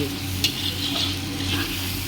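Mutton masala sizzles in a pan and is stirred briefly, with a dense, close crackle and a few soft scraping strokes over a short stretch.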